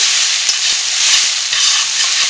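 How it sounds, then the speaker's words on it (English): Vegan sausage substitute is stirred into a tofu scramble frying in a pan, with loud, close sizzling and a few scraping stirs of a utensil against the pan. "So now I am putting in the sausage alternative"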